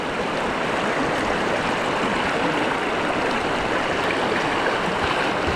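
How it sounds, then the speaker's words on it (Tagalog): A clear, fast-flowing stream rushes steadily and loudly, a dense, unbroken wash of water noise with no voices. "Malakas pati ang lagaslas."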